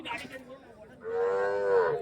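Cattle at the Friday livestock market in Kundarapalli, Krishnagiri district, give a loud, drawn-out moo in the second half, preceded by quieter lowing and market murmur.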